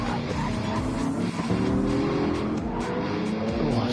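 Race car sliding sideways in a GT racing video game at Brands Hatch, tires squealing over a steady, loud engine drone with other cars nearby; continuous throughout.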